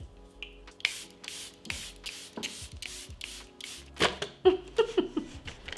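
A series of short, hissing bursts of Charlotte Tilbury Airbrush Setting Spray repeats in quick rhythm, close by, followed by a few light taps and clicks.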